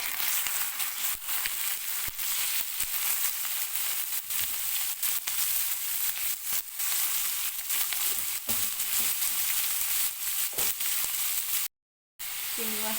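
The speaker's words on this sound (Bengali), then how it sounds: "এবার দিয়ে দেবো চিংড়ি মাছ।" Shrimp hits a pan of browned chopped onion and fries with a loud, continuous sizzle. Crackles and pops scatter through the hiss, and the sound cuts out briefly near the end. No one speaks.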